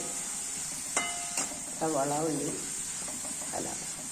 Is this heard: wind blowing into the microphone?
no